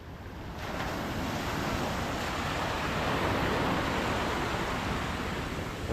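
Big sea waves surging around a wooden boat off the coast near Surigao, a continuous loud wash of surf with wind buffeting the microphone, steady throughout with no voices.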